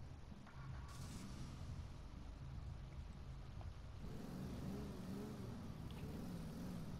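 A car engine starts and then runs steadily, a low rumbling idle that rises slightly partway through and keeps going, faint and close.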